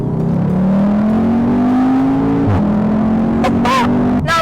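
An Audi TTS (MK3) with automatic gearbox, sharing its engine with the Golf R and S3, accelerates hard close to the microphone, its engine note climbing steadily before a brief dip at a gear change, then pulling again.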